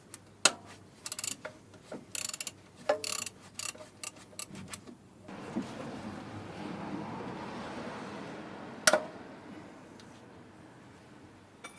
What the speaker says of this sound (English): I'm going to have to loosen the bolt there for the power steering pump